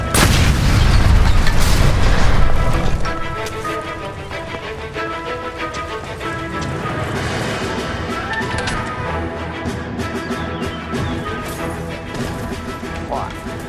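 A gas line explodes in the L.A. Noire video game, a loud sustained roaring crash of blast and debris that fades into a long rumbling, crackling aftermath with no voices.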